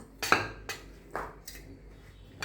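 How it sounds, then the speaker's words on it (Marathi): Metal clatter of a pressure cooker lid being lifted off after cooking masale bhat, a few sharp clanks and scrapes spaced over two seconds, close and moderately loud with no talk. "झाकणही निघतंय छानपैकी, मस्तपैकी"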